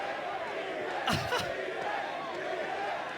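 Crowd at a League of Legends All Stars 2015 event swells into a brief loud cheer over steady arena murmur, with a short second burst shortly after.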